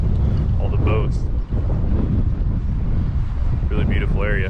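Strong wind on the Galway waterfront buffets the microphone in a constant heavy roar, with a voice and a few gull-like cries breaking through at times.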